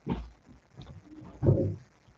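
Pigeons cooing among other birds, a few soft low calls spaced across a quiet moment, close and alone with no voices.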